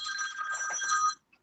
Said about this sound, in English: I had a phone call there on my phone that I have to turn off